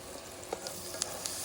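Onions frying in a pan for a chicken dish cooked by friends, a steady soft sizzle with a few brief clinks of stirring, close and alone.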